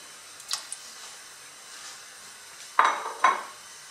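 Washed chickpeas tipped into a metal cooking pot for Algerian couscous, a couple of light clinks early on, then two sharp, close clattering rattles of utensil and pot against a quiet kitchen background.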